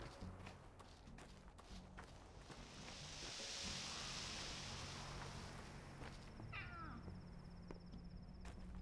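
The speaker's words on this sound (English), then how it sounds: "Is that a cat?" Cat in the video game Pathologic 2 gives a short, faint meow late on, rising briefly above a quiet bed of wind-like ambience and soft footsteps.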